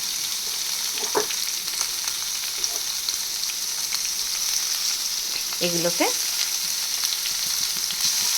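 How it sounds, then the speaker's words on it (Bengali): Chopped onion, tomatoes and green chillies sizzle steadily while frying in a pan, with occasional stirring scrapes. A voice speaks briefly over the continuous close hiss. "ভাজা ভাজা করে নেব"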